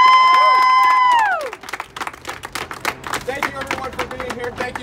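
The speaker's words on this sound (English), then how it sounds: "round of applause for the mayor." Crowd at a mayoral endorsement event cheers and claps for the mayor, loud at first with sustained whoops, then settling into scattered applause and chatter with voices talking over it.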